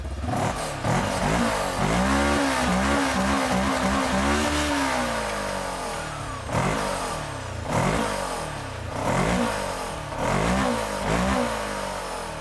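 An off-road side-by-side buggy with a one-liter engine revs repeatedly, rising and falling through several throttle blips, loud and close with no talking.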